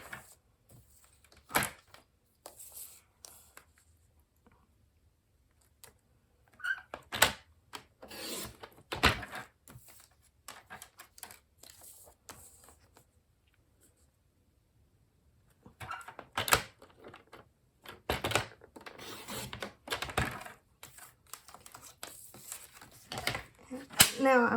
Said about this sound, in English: I'm going to do this on my trimmer.